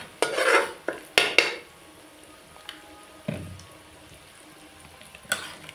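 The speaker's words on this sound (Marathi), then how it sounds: "आता आपण मटण घालून घेऊया." Mutton is added to a pan of fried onion, ginger and garlic with loud bursts of clattering and scraping against the metal, then quieter sizzling and a few lighter clinks.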